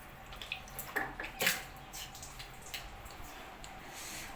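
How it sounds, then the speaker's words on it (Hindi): Water is poured and a mouth is rinsed nearby, giving a few close splashes and sloshing sounds early on, then softer dripping and trickling. "मैं पानी डाल के कुल्ला कर दूँ पहले।"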